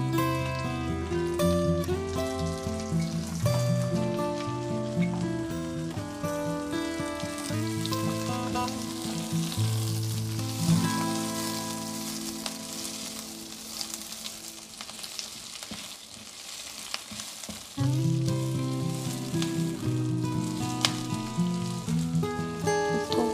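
Chopped square onion and capsicum sizzle steadily in a pan with sautéed garlic for Manchurian, a continuous loud frying hiss with occasional stirring, under background music and without speech.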